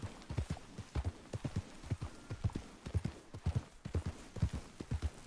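Horse hooves clip-clop in Red Dead Redemption 2, a steady trotting rhythm of close, distinct thuds throughout, with no talking.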